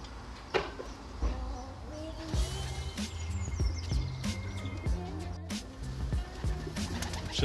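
A racing pigeon returning to its loft in England coos softly as it comes in and lands, a low repeated cooing over steady background noise, with other birds around.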